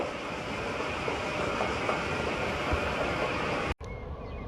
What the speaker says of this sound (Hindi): ये ट्रेन का टनल से निकलते हुए